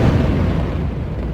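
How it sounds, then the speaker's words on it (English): Airstrike explosions over Gaza at night heard as a continuous low, rumbling roar of distant blasts blending together, dense and heavy in the low end without distinct separate bangs. "One big explosion after the other."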